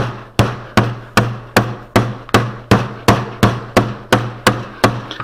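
A putty mallet beats down old window putty in a steady run of about a dozen evenly spaced, close, solid thuds, each followed by a short ring-off, with no talking.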